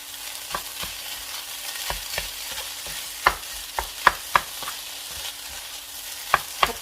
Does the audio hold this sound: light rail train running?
no